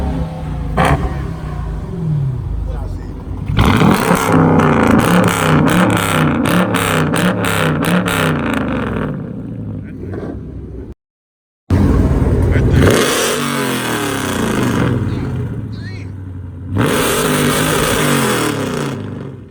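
Dodge Charger engine revving loudly up close, with repeated throttle blips and sustained roaring pulls, a brief cut of silence midway, and faint voices occasionally under the engine noise.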